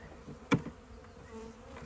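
Honeybees buzz faintly around beehive nucs outdoors, a low steady drone with one brief louder buzz as a bee passes close.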